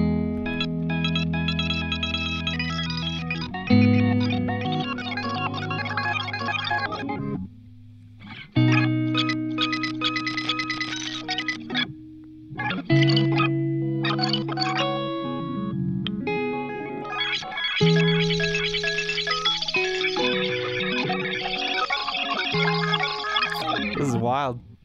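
A Chase Bliss Blooper guitar pedal used as a delay feeds back on itself, layering sustained, warbling distorted tones with echoes that cut out briefly and swell back, loud and up close.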